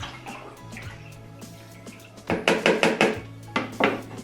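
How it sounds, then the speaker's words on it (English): A brandy wash is stirred briskly in a vessel, giving a run of close knocking and sloshing clanks in quick rhythm after a quieter start. "So give it a quick stir again."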